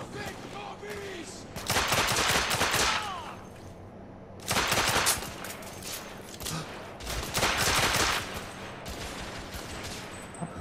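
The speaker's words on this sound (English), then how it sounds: "Who's shooting?" Bursts of rapid gunfire in the video game The Order 1886 come in three loud volleys separated by quieter gaps, with some talk mixed in.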